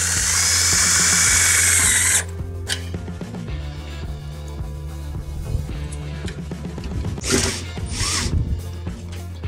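A power drill with a longer bit drives screws to secure the top of an aluminum stair rail to its post, with loud ratcheting whirs and bursts of motor noise, close and alone.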